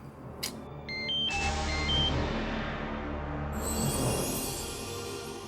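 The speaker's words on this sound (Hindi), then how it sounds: "तुम्हारा फोन बज रहा है" A phone rings with a short series of electronic beeping tones that give way to a low hum and hiss, heard alone without talking.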